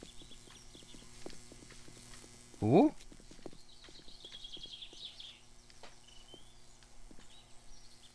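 Zombie footsteps in the game 7 Days to Die thud softly in a regular walking rhythm. A brief louder burst breaks in, and a voice speaks a single short word.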